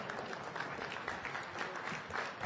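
Applause from a lecture audience at a Freedom From Religion Foundation event, a steady dense patter of clapping throughout at moderate level, with no clear speech over it.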